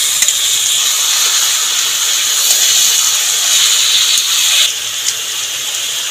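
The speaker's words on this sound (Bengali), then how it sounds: "ম্যারিনেট করা মাংসটা দিয়ে দেবো ওর মধ্যে।" Marinated chicken goes into a pan of frying ginger, setting off a loud, continuous sizzling hiss that eases slightly toward the end.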